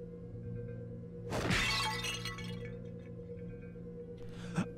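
Glass shattering in the Sonic Adventure 2 video game: one loud crash of breaking glass with scattering shards over a steady background hum, then a smaller second crack near the end.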